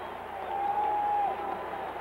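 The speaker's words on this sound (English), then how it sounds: "You can hear the crowd." At a 1979 Michigan State at Illinois college basketball game, a home arena crowd keeps up a steady roar, with a drawn-out tone rising above the din near the middle before settling back into the continuous noise.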